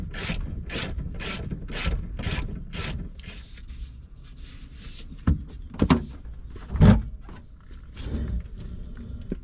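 A fast series of rhythmic ratcheting clicks, then scraping, rubbing and a few heavy thumps and clunks as seats are pulled loose from a BMW E36 M3 nearby.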